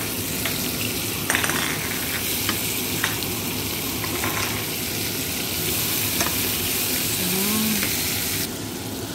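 Chopped garlic and onion frying in rendered pork fat for pork pochero, a steady loud sizzle with light crackles and occasional stirring clinks from a utensil against the pan, close up and without talk.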